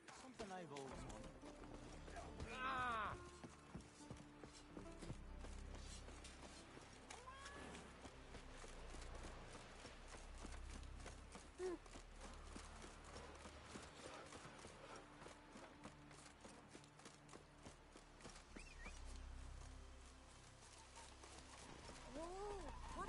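Roach, a horse in The Witcher 3, gallops with a steady clip-clop of hooves under game music, and a voice speaks over it.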